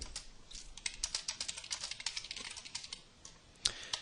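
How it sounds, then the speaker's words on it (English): Quick, steady clatter of computer keyboard keys typing code, close and crisp, with one sharper keystroke near the end and no voices. "if I can type correctly here, we will"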